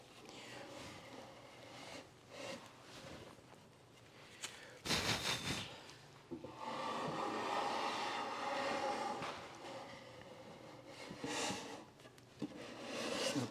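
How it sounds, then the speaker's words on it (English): A wood block plane shaves the edge of a cabinet case, with repeated scraping strokes close by and no talk. "I'm going to use my block plane instead of my"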